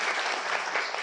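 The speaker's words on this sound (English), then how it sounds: "So big round of applause goes to Elise." Panel discussion audience gives a brief, steady burst of applause for Elise, dense clapping heard on its own.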